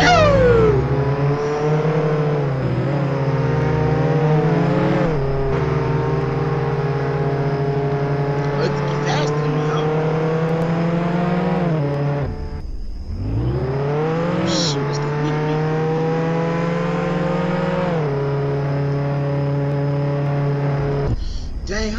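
A video game car drives and revs steadily, its engine tone rising and falling through gear shifts with a brief drop around the middle, loud and continuous throughout.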